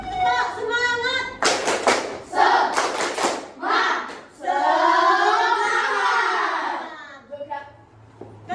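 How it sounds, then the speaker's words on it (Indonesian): An Indonesian fourth-grade class does the tepuk semangat clapping game, with bursts of rhythmic hand claps alternating with children chanting and a teacher's voice, fairly loud and close in a classroom. "ayo kita lakukan ice breaking dengan melakukan permainan tepuk semangat"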